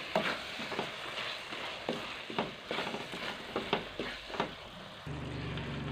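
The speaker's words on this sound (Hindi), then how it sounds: "इसको अच्छी तरह मिक्स कर लेंगे।" Fish curry masala frying in a pan at low volume, with soft sizzling and intermittent scraping stirs that stop abruptly near the end.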